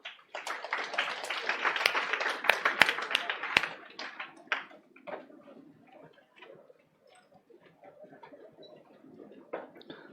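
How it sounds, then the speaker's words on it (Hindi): A lecture class of accounting students claps hands for a young man, a loud, dense burst of applause for about four seconds, then thinning to scattered faint claps and taps. "इस बार एक छोरे के लिए ताली तो बजा दो।"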